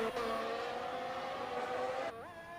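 Formula 1 car from a 2001 Monaco Grand Prix racing video game on a flying lap, its high-pitched engine whine holding steady then dropping and rising sharply again as it shifts gear, loud and continuous without talk.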